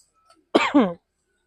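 A single close, short cough-like throat sound, two quick bursts, in otherwise quiet surroundings.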